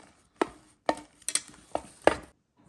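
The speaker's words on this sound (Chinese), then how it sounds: "把素汉堡排放进，加姜粉、胡椒粉，把它用力搅拌" A vegetarian burger patty mixture with ginger powder and pepper is stirred hard in a bowl, giving five sharp, close knocks at uneven intervals with quiet gaps between and no talking.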